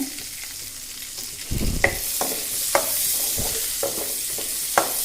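Onions and green chillies sauté in a pan for a coriander chutney. A soft sizzle runs throughout, with a louder rush and several sharp scrapes and knocks of a spoon stirring against the pan.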